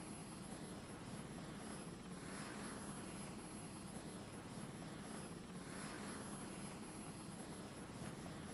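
Cartoon helicopter flying, a steady loud rotor drone with broad whooshing noise that swells and fades in slow pulses throughout.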